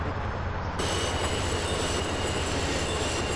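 Train rumbling past a station in GTA San Andreas Multiplayer, a loud steady roar of wheels and rail noise with a high metallic squeal joining after the first second.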